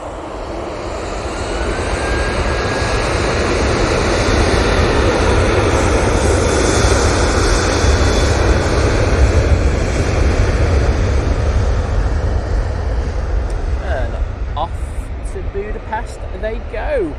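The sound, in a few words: airplane taking off at Manchester Airport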